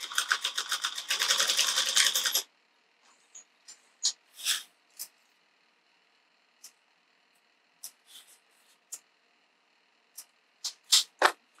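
Sewing machine stitching cotton lining fabric with fusible interfacing, worked slowly around a curve: a dense whirring burst of stitching at the start, then a scatter of isolated single clicks and short taps as it advances one stitch at a time.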